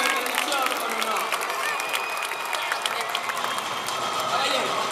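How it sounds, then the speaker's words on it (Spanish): Outdoor crowd applauds the defeated knight at a medieval joust show in La Coruña, a steady broadband wash of clapping and cheering over about five seconds, with an announcer's voice heard faintly within it. "Un aplauso para el vencido en condición con honor."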